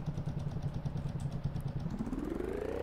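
Motorcycle engine from the mobile racing game Cafe Racer, a steady mid-pitched buzzing drone that holds level and then revs upward in pitch toward the end, continuous and loud with no talk over it.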